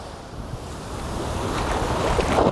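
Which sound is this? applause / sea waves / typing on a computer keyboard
sea waves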